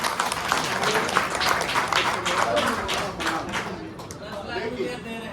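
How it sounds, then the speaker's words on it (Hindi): Audience applause at a Dalit welfare board gathering in West Bengal, a dense spread of clapping that carries steadily for several seconds before thinning toward the end, with some talk mixed in. "तालियां"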